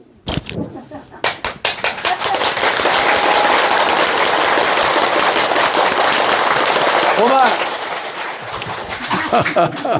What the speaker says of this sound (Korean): 내가 박수 칠 테니까 한번 봐요.